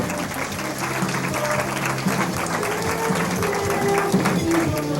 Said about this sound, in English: how about one more round of applause for Diana and Pat?